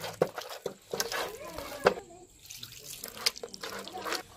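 Small amounts of water are poured over soaked tamarind in a kitchen to work out its pulp for pani puri, giving close, intermittent splashes and wet trickles separated by short pauses.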